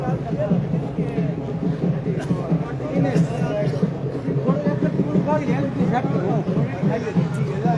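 A crowd of villagers at a village meeting place, with a steady murmur of many voices chattering together at a constant level and no single voice standing out.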